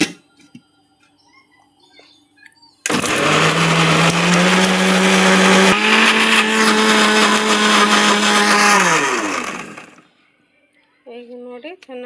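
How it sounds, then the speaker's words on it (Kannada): A mixer grinder blending fried onion and tomato for chicken curry starts abruptly, whirs loudly and steadily for about seven seconds with a pitch shift midway, then winds down to quiet, with brief faint voices after. "ಇದು ಚೆನ್ನಾಗಿ ಕರಗೋದ್ರೊಳಗೆ ನಾವು ಮಿಕ್ಸಿ ಜಾರಿಗೆ ಹಾಕ್ಕೊಂಡು ಬರೋಣ"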